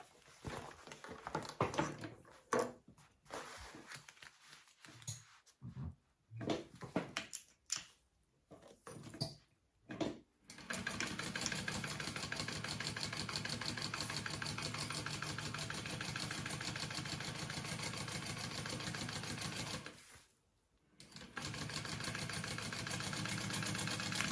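A sewing machine stitches the bottom seam of a fabric mini backpack, starting with short, stop-start whirring bursts and then settling into a long, steady run, near and alone.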